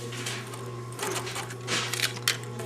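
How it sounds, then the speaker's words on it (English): Sewing machine stitching a seam allowance close to earlier stitching, heard as a quiet, fairly close mechanical hum with a few short bursts of faster rattling stitching. "We're going to sew the seam allowance to the back, very close to the first stitching."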